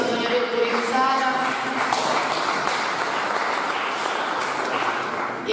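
An audience at a conference in the former Convitto Palmieri in Lecce applauds a councillor, steady dense clapping filling the hall for several seconds, with a voice speaking over it.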